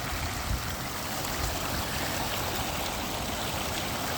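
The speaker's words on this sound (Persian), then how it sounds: "خیلی آب تمیز، خیلی آب روان، آب صاف، آب طبیعی" A clear natural stream of flowing water rushes steadily and close by, a continuous broadband babble with no voices.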